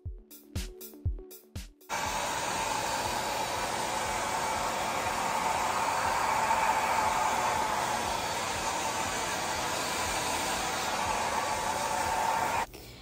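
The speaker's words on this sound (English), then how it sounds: "I didn't feel like the lowest setting was doing much to the hair, so I went ahead and I switched it to the highest setting." Hot Tools Quietair blow dryer running on its highest setting, a loud, steady broadband whoosh that switches on after a few seconds of clicking and holds unbroken until it cuts off near the end.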